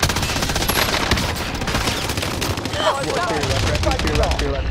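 Rapid automatic gunfire rattles in Call of Duty: Modern Warfare, dense bursts of shots continuing over a few seconds, with players talking over the shooting.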